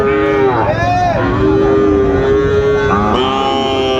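A bovine at a village cattle market lets out a loud, close moo that rises and falls, followed by a second shorter call, over a faint crowd murmur.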